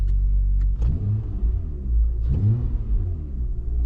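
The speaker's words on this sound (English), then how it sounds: "just put in neutral and just hit the gas just to see if you notice any difference" A car engine revs up in neutral with two distinct throttle blips that rise and fall over a steady idle rumble, heard close and with no talking.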